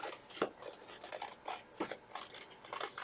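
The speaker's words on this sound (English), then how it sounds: "I want to make sure that I use my paper scissors for this and not my fabric scissors" Paper scissors snip through paper to cut out a circle, a series of close, crisp cutting strokes in an irregular rhythm with short pauses between them.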